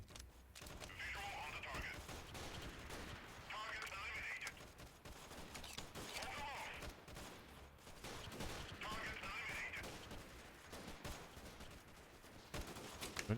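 Gunfire in the video game Freeman: Guerrilla Warfare, repeated bursts of shots and rattling fire coming in clusters, with someone talking intermittently over the fighting.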